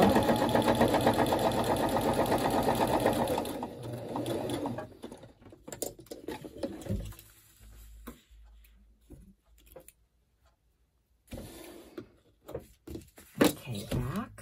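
A sewing machine stitches through the pages of a scrappy journal bound with a slit-and-slot system, running in a fast, steady burst for the first few seconds before stopping, followed by quieter scattered handling sounds.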